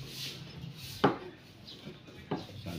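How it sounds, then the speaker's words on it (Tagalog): A knife cuts eggplant into small pieces on a board, two distinct sharp chops about a second apart over quiet room noise. "hiwain natin ang maliliit."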